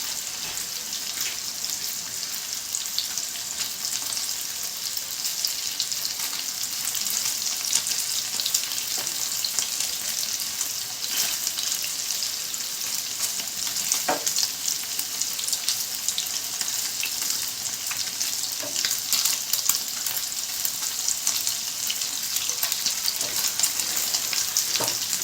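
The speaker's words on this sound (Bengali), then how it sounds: "একটু লাল লাল করে ভেজে নেব।" Chicken pieces fry for chilli chicken in a pan with a steady, dense sizzle, close and continuous, with occasional small pops and no voices.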